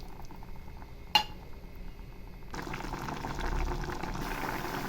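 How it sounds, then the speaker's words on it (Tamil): Water pours into a simmering curry of drumsticks (moringa pods) and chicken: a short clink, then a broad, steady rushing and bubbling that swells and holds to the end, with no talking. "இப்போ கொஞ்சமாக தண்ணி ஊற்றிடலாம்."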